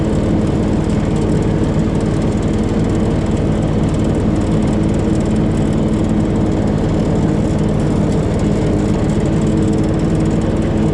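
Hydrostatic riding lawn mower cutting grass, a steady loud engine drone that runs close and unbroken throughout with no speech.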